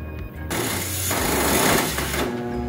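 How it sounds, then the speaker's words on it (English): A sawzall reciprocating saw cuts the concession window opening in a food truck's metal wall, giving a loud, continuous buzzing rattle close by that rises and eases slightly as the blade works. "I'll follow up with that sawzall to make the finishing cuts."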